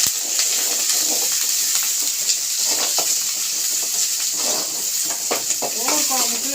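Small onions, dried red chillies and curry leaves sizzle in hot oil in a pan, a steady hissing fry with occasional stirring clinks, while a person talks over the cooking.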